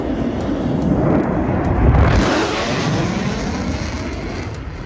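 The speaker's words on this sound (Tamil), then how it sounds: "லெபனான் தலைநகர் பெய்ரூட்டில் இஸ்ரேலின் ஜெட் விமானங்கள் சீறி பாய்ந்ததுடன் ஒலியின் வேகத்திற்கு ஈடாகவும் அதே நேரத்தில் மிக தாழ்வாக காதை கிழிக்கும் ஓசையுடனும் பறந்தன" Israeli fighter jets streak low and fast over Beirut, a loud broad roaring rush that swells toward the middle and then trails off into a sustained rumbling wash.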